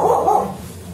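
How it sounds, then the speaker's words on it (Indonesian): A dog barks once at night while another dog is around, a single loud, close, harmonic bark that fades into low background rumble. "Tuh, gonggong gak jelas."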